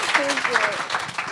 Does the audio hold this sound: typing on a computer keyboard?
no